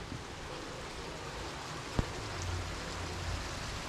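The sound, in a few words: rain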